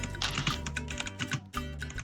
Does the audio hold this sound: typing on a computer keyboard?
yes